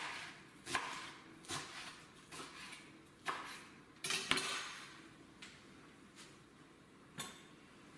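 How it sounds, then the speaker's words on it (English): A knife chops through onion on a cutting board in a home kitchen, sharp isolated knocks landing at irregular intervals with quiet pauses between, close and fairly soft. "I love this way to cut onions."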